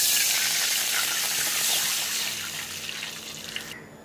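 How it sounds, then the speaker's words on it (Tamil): Two cups of water poured into a pan for rava kesari, a steady broadband gushing splash that runs close and loud for about four seconds, easing slightly toward the end, with no voices. "2 கப்பு தண்ணி ஊற்ற போகிறோம்."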